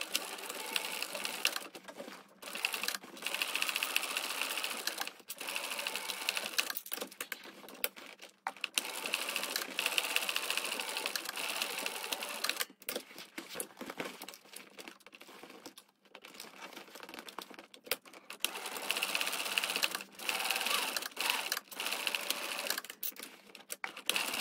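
A sewing machine runs in bursts, backstitching the base seams of a handbag, its quick needle chatter fairly faint and close, with brief pauses and fabric handling between runs.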